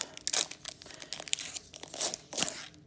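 A Pokémon booster pack wrapper is torn open close by, thin foil crinkling and ripping in quick, scratchy bursts with a couple of sharper tears near the end, no one speaking.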